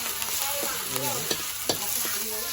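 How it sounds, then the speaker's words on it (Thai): Pounded shallots and garlic stir-fry in hot oil for a Thai canned-fish chili paste, giving a steady, close sizzle broken by a few sharp spatula scrapes. No one speaks. "ผัดขั่วกับน้ำมันให้มันหอมก่อน"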